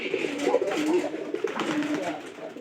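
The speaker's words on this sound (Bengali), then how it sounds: "দেখেন কবুতর নতুন কবুতর যখনকার ঘর চিনি তখনকার থেকে কিন্তু ডাকা শুরু করে দেয়।" A pigeon in a home loft coos in soft, low, rolling calls repeated through the clip, close by with faint background noise and no speech.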